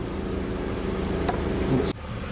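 A 1962 Dodge 100 pickup, started for the first time in 25 years and likely carrying a bent pushrod from a stuck valve, idles roughly and close by in a steady pulsing chug, then drops briefly near the end.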